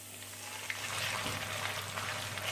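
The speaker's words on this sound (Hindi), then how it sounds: "अब मैं इसमें चिकन को ऐड करूँगी।" Chicken tipped into a pan of lightly cooking chopped garlic for chow mein, setting off a steady close sizzle that swells and holds with faint stirring scrapes and no talking.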